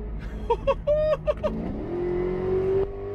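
A Whipple-supercharged Mercedes E55 wagon engine revs in several sharp bursts, then holds a rising, whining pitch before cutting off abruptly near the end; loud and close.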